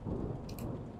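A thunderstorm in Flicker of Hope, with dense steady rain and a low continuous rumble of thunder filling the whole short stretch.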